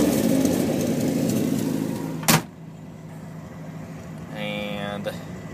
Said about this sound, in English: My exhaust is popping, but I've got multiple holes in the exhaust pipe, which you can hear right outside the door.